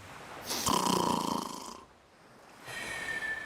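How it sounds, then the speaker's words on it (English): A snoring sound effect: two drawn-out snores, the first a loud rumbling inhale, then a pause and a quieter, higher wheezing snore. "the Jifflings heard a familiar snoring sound coming from a big pile of Jifmas tinsel"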